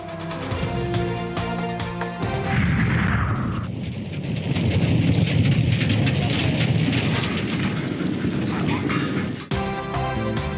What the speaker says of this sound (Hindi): बलूचिस्तान में एक बार फिर तूफानी बारिशों की जद में